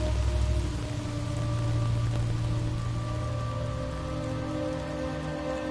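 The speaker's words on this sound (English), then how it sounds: "The rain doesn't make you older anymore." Steady rain pours down in the video game Death Stranding, a dense, continuous hiss of drops on surfaces, with a low rumble and faint tonal ambience underneath and no voices.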